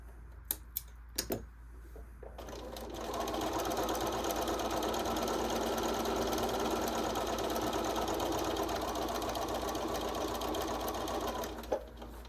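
A sewing machine stitching an exposed zipper runs in a steady, fast mechanical whir for about nine seconds after a few faint clicks, close and clear with no talking.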